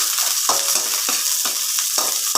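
Chopped garlic sizzles in hot olive oil in a pan, a steady crackling hiss broken by regular scraping strokes of a stirring utensil.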